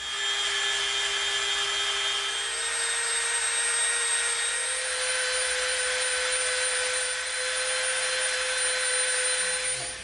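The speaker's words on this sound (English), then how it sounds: "we're gonna Dremel from the line we drew right up to that edge we cut" A Dremel rotary tool cuts through EVA foam, giving a continuous high-pitched whine with a rasping grind that holds steady for ten seconds, close and fairly loud, with no talking.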